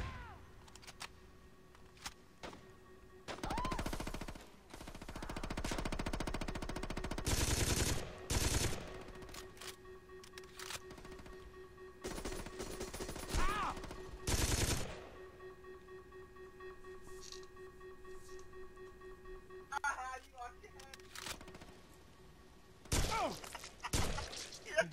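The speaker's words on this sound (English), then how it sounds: "they started aiming their weapons and firing at me" Enemies fire weapons at the player in Saints Row 2, with repeated bursts of gunfire, loud broadband volleys and scattered shots across a long stretch of game action, and occasional voices in between.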